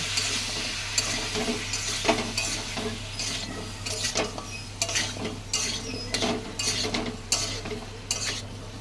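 Tengra fish and long-cut potato strips frying together in a pan while being stirred, with repeated scraping and clinking of a utensil over a steady close sizzle.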